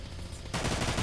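Gunfire from the video game Dirge of Cerberus: Final Fantasy VII erupts abruptly halfway through, a dense, loud burst of rapid shots following a quieter stretch.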